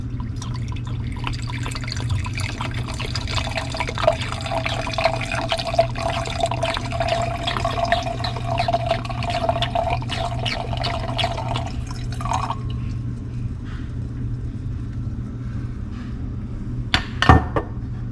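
Apothic red blend wine poured from a bottle into a glass, a close, steady liquid trickle and gurgle that runs for several seconds and then stops, followed by a light clink, over a low background hum.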